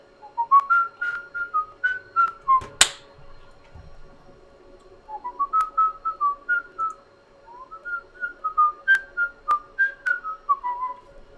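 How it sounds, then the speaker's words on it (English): A person whistles a melodic tune in two clear phrases, with a sharp click between them and a steady faint tone underneath, during an online multiplayer game session. "Can I get copyrighted if I whistle? If I whistle the copyrighted music?"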